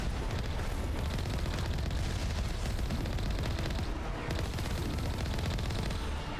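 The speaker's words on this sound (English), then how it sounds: "And there's their rockets." Continuous dense barrage of rocket fire and explosions in the video game Mass Effect 1 Legendary Edition, loud and unbroken, with rumbling low-end blasts layered through the whole stretch.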